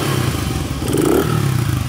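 A Honda XR650 motorcycle engine runs steadily at close range, a loud continuous low mechanical drone with a brief slight rise in revs midway and no speech.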